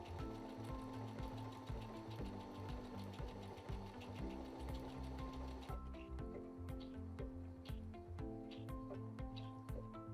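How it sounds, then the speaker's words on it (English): A Brother BQ950 sewing and quilting machine stitches out a number 2 decorative stitch, a steady rapid mechanical clatter with regular needle thumps that continues throughout, close and moderately loud, with no talking. "the machine is going to finish that number 2 decorative stitch and finish it up and then just stop"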